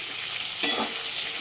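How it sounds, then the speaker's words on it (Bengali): Cauliflower fries in a pan with a loud, constant sizzle while a spatula scrapes and stirs through it once midway. No one speaks. "এদিকে দেখো ফুলকপি ভাজা আমি বসিয়ে দিয়েছি"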